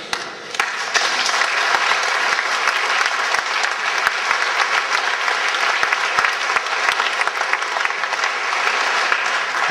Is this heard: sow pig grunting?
no